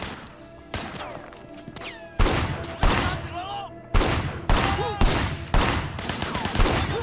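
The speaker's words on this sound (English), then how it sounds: "Firing shots from the passenger window." Gunshots fired from a car window in the video game Sleeping Dogs: loud, sharp bursts in an irregular series of about eight volleys, close and dominant, with faint game sounds between.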